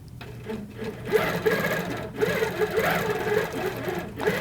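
An HQ Avanté longarm quilting machine stitches steadily at close range, giving a continuous mechanical whir with a faint rhythmic tick, and no voice over it.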